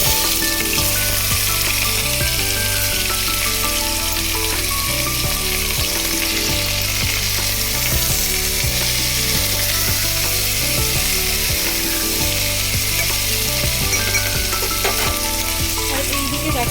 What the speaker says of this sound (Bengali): এখানে আমি চিকেন স্টুটা বসিয়ে দেবো একটু জিরে ফোড়ন দিয়ে নিয়েছি